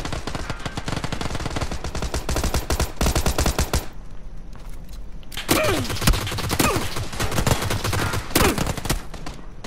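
Rapid automatic gunfire and single shots from the PUBG battle royale video game crackle in loud, dense bursts, pausing briefly in the middle before resuming with more shots and sharp impacts.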